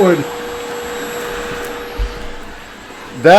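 A Milwaukee M18 cordless vacuum, model 0885-20, runs with a loud, steady whine and airflow roar close by, with a brief thump partway through and the motor pitch shifting at the end.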